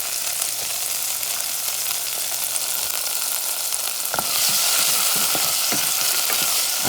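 Potatoes hit a hot pan for Cuban-style black beans, a dense continuous sizzle with crackling pops that grows louder and brighter partway through, with no talking.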